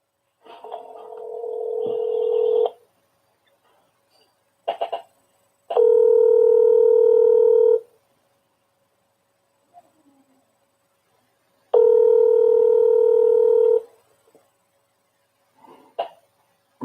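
Telephone call tones: steady, sustained beeps that come in three separate bursts of about two seconds each, clear and loud, with short clicks and handling noises in the silences between.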